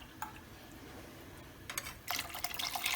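Water poured from a rinsed mixer jar into a pot of Tamil-style roadside mushroom soup, a faint trickle at first, then a louder, steady rushing splash building over the last second.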